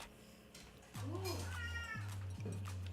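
Cat meowing loudly indoors, three drawn-out, insistent yowls in quick succession, close and clear over a quiet background.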